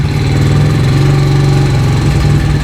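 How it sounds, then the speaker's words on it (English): A cold dirt bike engine running roughly with the choke on, a loud, steady, close low rumble with a knocking pulse and no talk. "We're gonna turn the choke on. The motor is cold. Okay, so we got the choke on. Let's see if we can get this thing fired up."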